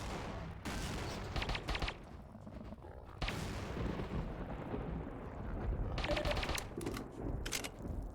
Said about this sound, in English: So blew those up, which then triggered like an explosion there for some reason